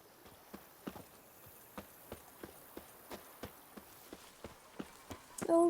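Roach, Geralt's horse in The Witcher 3: Blood and Wine, clip-clops along in a steady rhythm of about a dozen distinct hoofbeats, moderately close, with no talking over them.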